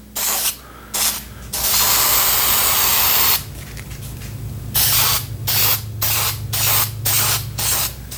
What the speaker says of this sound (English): I'm going to spray 2 or 3 light coats on here.